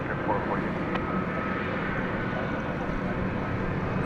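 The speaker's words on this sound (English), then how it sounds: "It's an Airbus A319." A Delta Airbus A319 airliner taking off from DFW Airport gives a steady, moderately loud engine roar heard from a distance, with a voice talking over it.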